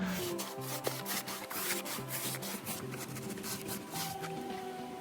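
Brush strokes applying stain to a deck fascia board, a steady rubbing, scraping sound that stays close and continuous, with no talking.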